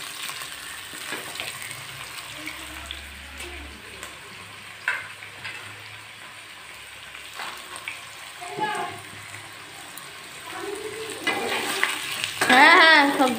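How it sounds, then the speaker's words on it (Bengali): Chopped capsicum, carrot and beans stir-fry in a hot pan for fried rice, a steady sizzle with scraping stirs and a louder burst of frying near the end. "এখানে ক্যাপসিকাম, গাজর, বিনস সব কুচিয়ে রেখেছিলাম, ওগুলো আমি দিয়ে দিয়েছি।"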